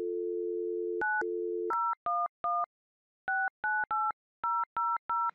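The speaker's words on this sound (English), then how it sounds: "You can dial international numbers." A telephone dial tone holds steady for about a second, then a long sequence of touch-tone DTMF beeps sounds as an international number is keyed in, clean and isolated with short silent gaps between presses.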